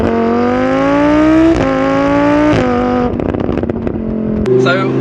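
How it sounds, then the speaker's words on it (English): A Lamborghini Huracan's engine roars loudly and steadily while driving, its rising harmonic drone shifting pitch with throttle and gear changes, close and dominant throughout, with a rougher burbling stretch near the end. "I hope you guys can hear me because this car is so loud"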